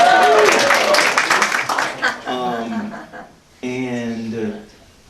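An audience at a Juneteenth poetry reading in the Kimpton Alton Hotel, San Francisco, claps and cheers for about two seconds, then the applause fades as someone talks and chuckles.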